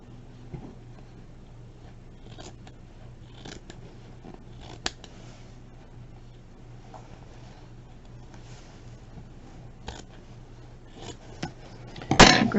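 Scissors snip through wedding gown fabric near an applique, quiet scattered cuts with soft rustling of the material, ending in a louder burst of cloth handling.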